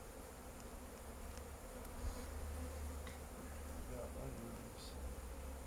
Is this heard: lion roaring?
no